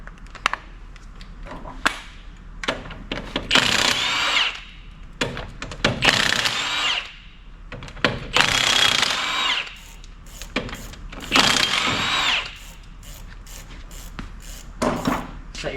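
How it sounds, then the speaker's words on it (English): Power tool, likely an impact wrench, spinning off 21 mm wheel nuts on a 1998–2002 Toyota Corolla during a front strut replacement: several loud, separate bursts of whirring and rattling, with quieter clicks and handling noise between them. "Step 2, take off the wheel. So with these, it'll be a 21 millimeter."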